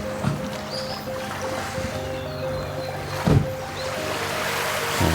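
Calm ocean waves wash gently at Suri beach on Kakeroma Island in the Amami islands, a soft steady surf hiss broken by a few small splashes close by.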